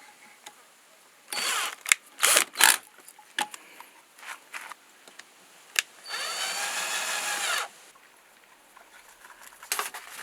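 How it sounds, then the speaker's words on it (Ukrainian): An MPPT solar charge controller being screwed in place with a power screwdriver, heard as several short close whirring bursts and one longer steady run, separated by light clicks and handling noises. "Зараз ми отак тимчасово його тут прикрутимо."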